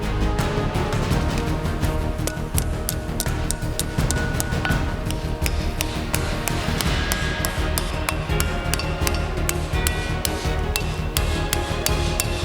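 Hot steel for a pirate sword guard is dished in a swage block under a fast, steady run of loud, close hammer blows that ring sharply and continue without pause, with no talking.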